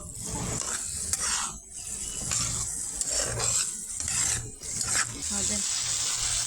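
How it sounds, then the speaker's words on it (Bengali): Tomato chutney with green chillies is stirred in a pan, a rough scraping and soft sizzle that swells and dips with each stroke, with a few brief clinks near the end. "তো এখন ভালোভাবে নাড়াচাড়া দিয়ে নিচ্ছি"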